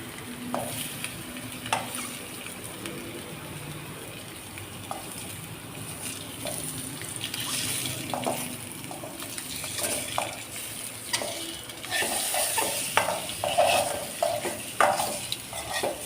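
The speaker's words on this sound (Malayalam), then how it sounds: "എന്നിട്ട് ലോ ഫ്ലെയിമിൽ ജസ്റ്റ് ഒന്ന് ഫ്രൈ ചെയ്യുക." Egg frying gently in a pan over a low flame, a steady soft sizzle with intermittent scraping and clinks of a spoon stirring, close and continuous without speech.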